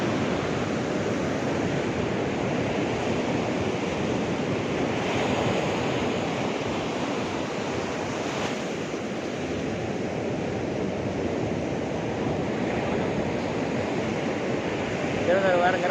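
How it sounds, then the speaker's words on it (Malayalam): Sea waves breaking on Kozhikode beach, a loud continuous surf roar with steady wash and rumble, buffeted by wind noise on the microphone, no voices standing out. "ഓരോ ഏരിയയിൽ ഓരോ തിരമാല ഉണ്ട്"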